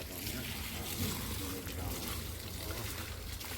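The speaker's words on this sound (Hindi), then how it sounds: "तो अंकल जी पानी भी देखो भर रहे हैं भाई" Fresh drinking water runs steadily from a tap into a container on a farm, a continuous splashing stream with voices talking over it.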